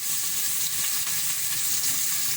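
Onion frying in a pan for a beans and vegetable dish, a steady soft sizzle with faint crackles, close and fairly quiet, with no talking.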